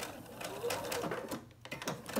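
A sewing machine stitching along a fabric edge, a steady mechanical whirring and rapid needle clatter that pauses briefly before resuming, close and moderately quiet.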